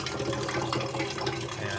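A push-button pump on top of a 4-gallon water jug in an RV dispenses water in a steady, continuous splashing stream, close and fairly loud, with no talking.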